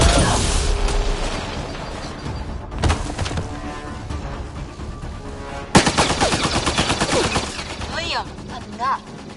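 Rapid automatic gunfire in the Mass Effect Andromeda video game, dense bursts of shots with sharp impacts and a few booms, loud and close, with brief gaps between volleys and faint voices in the mix.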